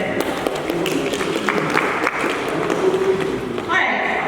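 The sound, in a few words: audience applause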